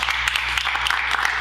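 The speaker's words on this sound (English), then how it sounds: "Actually, round of applause." A short burst of audience applause, dense rapid clapping with a few sharper claps standing out, heard close and steady over a brief moment.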